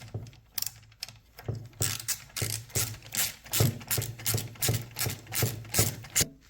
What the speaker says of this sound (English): I'm going to tighten this down real quick.